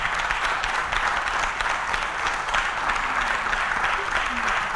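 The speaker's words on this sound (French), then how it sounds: "Je vous demande d'applaudir très fort le vigneron" A French audience at a wine-related event applauds steadily and loudly, a dense continuous wash of clapping lasting several seconds with a voice faintly underneath.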